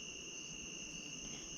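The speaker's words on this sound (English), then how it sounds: "probably you might hear some bugs buzzing. They haven't stopped at all" Night insects, crickets or similar bugs, trill near a campfire in a Florida state forest, giving a steady, high, unbroken buzzing drone that is faint but continuous throughout.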